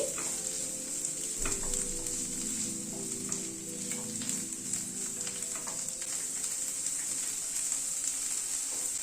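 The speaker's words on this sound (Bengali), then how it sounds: "এবার এই চানাটাকে দিয়ে দিলাম, ছোলাটাকে দিয়ে একটুখানি নাড়াচাড়া করে নিচ্ছি।" Chickpeas frying and being stirred in a pan, giving a continuous close sizzle with scattered scraping and tapping from the utensil throughout.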